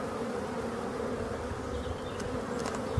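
Honeybees hum around a small nucleus hive on two or three brood frames, a close, steady buzzing drone with a few individual bees passing near.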